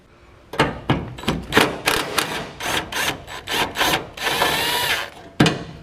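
A power tool works loose the 14mm sway bar bolts on a Nissan 240SX (S13) being prepped for off-road use, giving about a dozen loud, close, rattling bursts of uneven length with short pauses between them.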